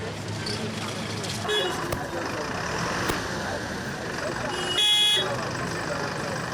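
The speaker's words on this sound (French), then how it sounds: "Son champ d'action, les carrefours embouteillés du district d'Abidjan, comme ici au carrefour de la gendarmerie de la commune d'Abobo." Busy traffic at a congested crossroads in the Abobo district of Abidjan: a continuous roar of cars, trucks and buses with brief horn toots, steady and fairly loud, with no speech over it.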